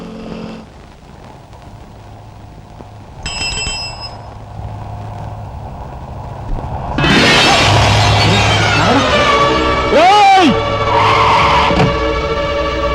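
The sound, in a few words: car skidding in a movie scene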